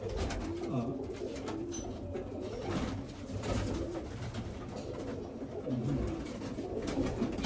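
Roller pigeons coo steadily in a loft, soft low throaty calls repeating throughout amid the birds' rustling, close and continuous.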